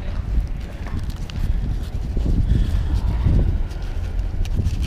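Strong wind at an outdoor flea market buffets the microphone in a continuous low roar, with gusts swelling and easing throughout and no clear talk.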